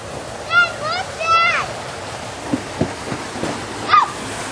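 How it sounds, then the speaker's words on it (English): Creek water rushing steadily into a culvert beside a bridge at a hatchery wetland in Vancouver, Washington, a continuous outdoor wash with bird chirps and a few soft thumps over it. "that's where the water from the creek is going in"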